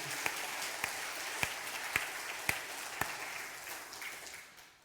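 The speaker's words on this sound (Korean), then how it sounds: "우리의 찬양을 받으신 하나님께 박수의 영광 올립니다" A congregation at a Sunday worship service at a Korean church applauds, a soft sustained patter of many hands with a few sharp louder claps at roughly half-second intervals before it fades out.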